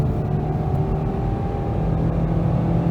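A 2018 Lada Vesta Cross with a 1.8 engine and AMT gearbox accelerating at full throttle uphill, a loud, steady low engine drone heard from inside the car.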